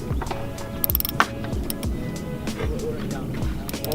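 Ratchet working a 10mm bolt loose on a VANOS solenoid of a BMW E90, close-up, with short bursts of clicks and metallic rattles among low mechanical clatter.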